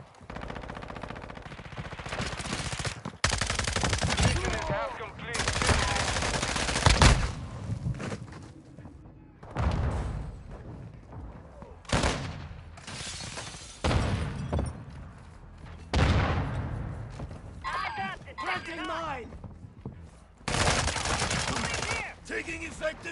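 Bursts of gunfire in Call of Duty multiplayer: repeated loud automatic volleys, some long and some short, separated by brief lulls, with heavy booms among the shots.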